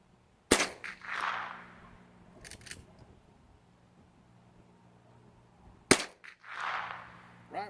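Two sharp .22 Magnum shots from an Ithaca saddle gun, a few seconds apart, each followed by a faint metallic ding from a distant metal target, with light shuffling between.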